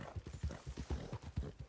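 Rhythmic clip-clop of a horse's hooves in Red Dead Redemption 2, an even trotting beat of soft low thuds repeating steadily at moderate distance.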